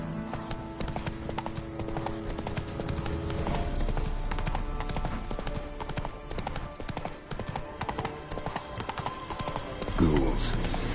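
Roach, a horse in The Witcher 3 video game, clip-clops at a steady walking rhythm across most of the stretch, mixed with game ambience and music, and someone speaks briefly.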